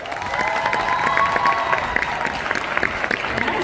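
Audience at a concert applauding a guest singer, dense sustained clapping mixed with crowd cheering, loud and even across the whole stretch.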